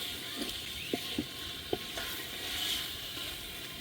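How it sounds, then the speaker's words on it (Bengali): Meat sautéing in a pot with spices for a biryani, making a steady background sizzle with a few sharp clacks from a stirring utensil, heard alone at moderate volume. "সব মশলাপাতি দিয়ে মাংস কষিয়ে নিচ্ছি"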